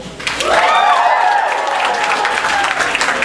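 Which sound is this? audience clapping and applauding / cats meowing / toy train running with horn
audience clapping and applauding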